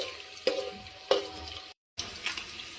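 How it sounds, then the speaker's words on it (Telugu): Peanuts frying in hot oil: a continuous bright sizzle with a few sharp popping crackles and stirring clicks, briefly cutting out before the sizzle resumes. "పల్లీలు అయితే వేసుకుందాం, ఎందుకంటే నూనెలో వేస్తే ఫస్ట్ బాగా ఎగుతాయి"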